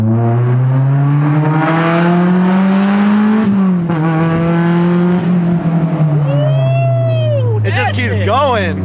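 Honda S2000 engine revs hard under acceleration from inside the car, its loud buzzing tone climbing steadily, dipping at a shift and climbing again, while people talk and exclaim over it.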